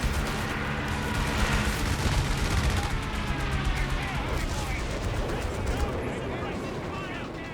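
An anti-tank gun fires during a Company of Heroes 3 team battle, with heavy booming shots set among dense surrounding gunfire and explosions that form a continuous loud barrage.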